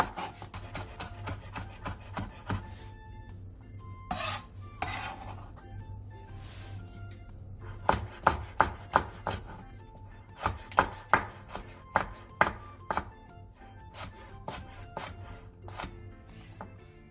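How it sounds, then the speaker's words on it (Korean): A knife chops half a green onion into fine rounds and slices half a red chili on the diagonal against a cutting board, with steady close rhythmic knocks that grow sharper and louder partway through, alone without talk. "대파 2분의 1개를 쫑쫑 썰고 홍고추 2분의 1개는 어슷 썰기 해주세요"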